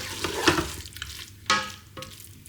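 Prawns sizzle in a Ninja Foodi pot while being stirred, producing a steady close-up frying hiss broken by three or four louder scraping stir strokes.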